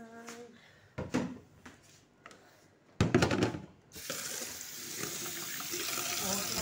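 Kitchen tap running, water pouring into a stainless sink during vinegar cleaning: a few brief splashes and clatters, then a steady close rush of flowing water that fills the last few seconds.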